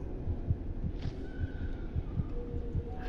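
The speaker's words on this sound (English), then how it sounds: "Little child heart beating in my ears." A steady, muffled heartbeat thumps in a low, regular rhythm under a constant ambient drone in the video game Among the Sleep, with no talking.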